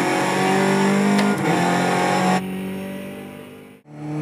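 A Skip Barber Formula 2000 racing car engine in the iRacing game at Laguna Seca, a loud, steady high-pitched drone that holds, drops sharply in pitch as the car brakes into a corner, dips briefly, then climbs again on the exit.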